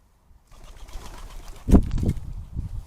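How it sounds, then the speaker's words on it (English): Three pigeons visiting a woodland garden at Pinetree Wood on a June evening: a sudden close burst of flapping wings, then a few softer rustling flutters and low sounds against quiet outdoor background. "The 10th was quiet until 3 pigeons visited that evening."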